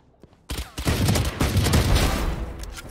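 Rapid bursts of video game gunfire in a mobile shooter, a dense, loud volley of shots starting abruptly after a quiet moment and continuing without pause.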